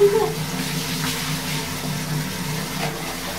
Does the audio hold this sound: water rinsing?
yes